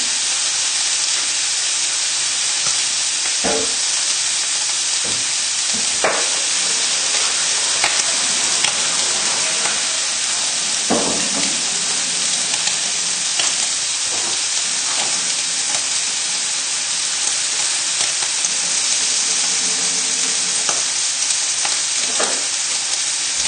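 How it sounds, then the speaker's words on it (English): Bacon and cold cabbage fry together in a pan on the hob, with a steady, loud sizzle and hiss throughout and occasional sharp scrapes and knocks from stirring. "just give the bacon another little stir, and then in with the cabbage, the cold cabbage now."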